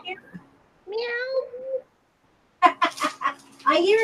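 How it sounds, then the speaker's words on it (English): A cat meows clearly nearby in short drawn-out calls, a couple of cries separated by pauses, with a burst of overlapping meows at the end. "I hear it meowing."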